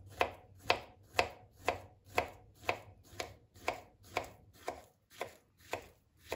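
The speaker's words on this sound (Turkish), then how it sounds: "muzumu ince ince doğruyorum." A knife slices a banana thinly for a biscuit cake, giving about thirteen evenly spaced, crisp taps against a cutting board, close and clear with no voices.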